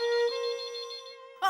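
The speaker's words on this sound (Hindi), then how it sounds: "मैं फोन उठाती हूँ।" A telephone rings in a home with a sustained electronic tone lasting over a second, then a brief louder burst of ringing at the end, close and clear with no talk over it.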